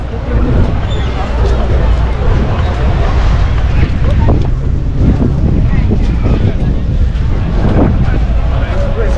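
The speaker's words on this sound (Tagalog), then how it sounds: "Malamig yung hangin." Cold wind gusting at Bondi Beach in Sydney, a loud constant roar and buffeting against the microphone with surf in the background, while people talk over it.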